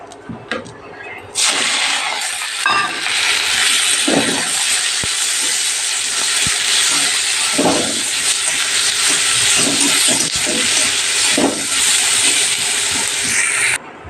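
Fish oil fries in a pan with a loud, steady hiss that starts abruptly and holds nearly unbroken for about twelve seconds, with faint voices beneath.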